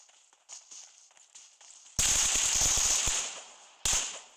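Gunfire in the mobile battle royale game PUBG Mobile: a few faint clicks and light handling noises come first, then a loud sustained burst of rapid automatic fire, and a final short blast near the end.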